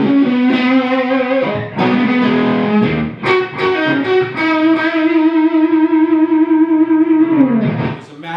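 Electric guitar played through a Gjika amp with no effects, ringing sustained notes and chords loudly and continuously with a brief dip near the end; heard alone with no talking.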